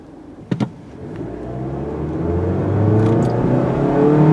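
A 2017 Toyota Yaris iA in sport mode accelerating, its engine note rising steadily from a low hum to a louder strained drone, with a brief click near the start.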